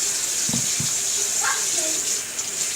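Steady tap water runs continuously from a kitchen faucet while green bananas are washed before cooking, with a few faint bumps and a voice murmuring briefly underneath.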